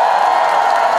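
Concert audience at the Namwon Chunhyang Festival 2023 moonlight concert cheering and applauding an announcer: a dense, steady wash of crowd noise and cheers, loud and continuous for the full second.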